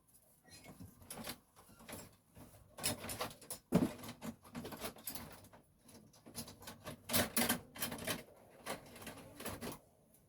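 Scissors cutting a paper skirt pattern, heard as a quiet irregular series of crisp snips and paper rustles in short bursts, close up and without speech.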